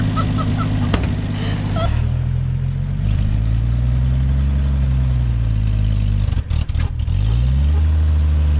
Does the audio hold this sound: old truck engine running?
yes